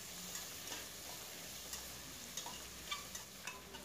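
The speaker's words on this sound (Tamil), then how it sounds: "அதையும் சேர்த்து தக்காளி நல்லா சாஃப்ட் ஆகிற அளவுக்கு வதக்கி விட்டுக்கலாங்க." Faint, steady sizzle of tomatoes and onions sautéing in a pan for kuska biryani, with a few soft crackles and pops scattered throughout and no voices.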